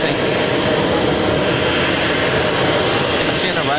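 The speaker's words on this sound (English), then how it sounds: "I see an arrival going on runway 4 right" A jet airliner arriving on runway 4 right at JFK airport, heard as a loud, continuous engine roar that stays strong throughout, with a voice faintly present beneath it.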